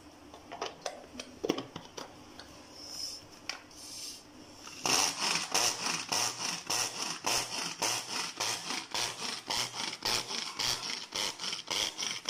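Cooled onion and green chillies are chopped in small batches, a quick run of rhythmic, closely spaced chopping strikes that grows louder and steadier partway through, with no talking.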